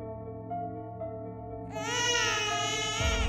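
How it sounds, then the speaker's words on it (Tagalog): A tiyanak, the baby-like creature of Filipino horror, cries in a spooky sound effect: a rising, wavering infant-like wail swells over a low droning tone, then cuts off abruptly. "Sinasabing iyak ng bata lang daw ang maririnig natin kung gusto nila tayong takutin."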